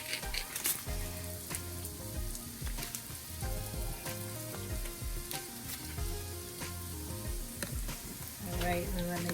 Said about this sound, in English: I'm just gonna add a little bit of butter just to help it, especially with this pan.